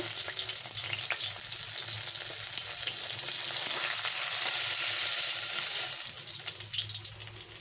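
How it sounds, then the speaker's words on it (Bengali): Katla fish frying in a pan of hot oil, a steady, close sizzle and crackle that runs without a break and eases slightly near the end, with no voices. "মাছটা ভাজা হয়ে গেছে মাছটাকে উঠিয়ে নেব"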